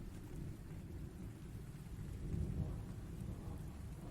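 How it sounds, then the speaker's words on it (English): Steady rain falls through a thunderstorm while low thunder rumbles, swelling slightly midway, heard faint and distant as a continuous background wash. "The storm had already begun to gnash its teeth against the windows of the old porterhouse, as Sarah, Mike, and I huddled"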